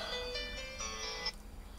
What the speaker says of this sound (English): got a phone call. I have to answer it later.